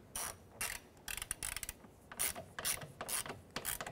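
Ratchet wrench snugging the mirror mounting nuts on a 2006-2013 Chevrolet Impala front door, a series of close, quick clicking bursts in short strokes with brief pauses, no talking.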